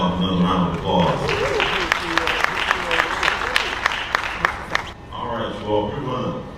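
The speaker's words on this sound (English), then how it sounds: "can we give Randolph another round of applause?" Audience applause for speaker Randolph Love III at an annual Booker T. Washington economic event, clapping and crowd noise with prominent individual sharp claps, voices and cheering mixed in before it tapers at the end.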